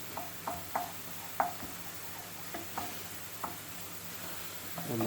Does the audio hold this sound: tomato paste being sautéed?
yes